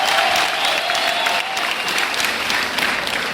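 A crowd claps steadily and loudly at a gospel gathering in Bugesera, Rwanda. The dense applause is heard alone throughout, with a faint high tone briefly under it.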